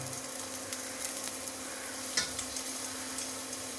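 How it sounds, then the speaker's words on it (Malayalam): Upma ingredients with urad dal and salt are stirred and sautéed in a pan, giving a steady low sizzle with soft scraping strokes and one louder clink near the middle, alone and without talk. "ഇത് നന്നായി വഴറ്റി വരുന്നത് വരെ ഒന്ന് നമ്മൾ ഇത് ഇളക്കിക്കൊണ്ടിരിക്കുക"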